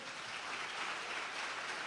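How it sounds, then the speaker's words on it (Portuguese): A church congregation applauds during a Portuguese-language sermon, a dense, steady wash of clapping that holds evenly for about two seconds without a voice over it. "Você pode dar um aplauso ao Senhor?"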